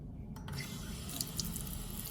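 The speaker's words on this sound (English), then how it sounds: "So this is the faucet I'm talking about" An open-flow faucet runs steadily, with water splashing and gurgling up close and a few brief clinks. There is no speech.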